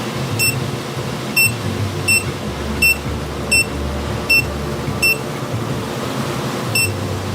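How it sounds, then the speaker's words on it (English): A front keypad gives short, high electronic beeps as a code is entered, about eight evenly spaced tones over a low background hum. "there's also a keypad in the front, as you notice right here, and you will put your code in"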